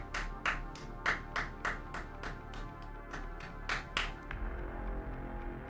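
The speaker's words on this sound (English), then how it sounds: "A little seated applause." A few scattered claps from a small seated audience, about ten sharp separate hits spaced unevenly over a steady low hum, close by and moderately loud, trailing off near the end.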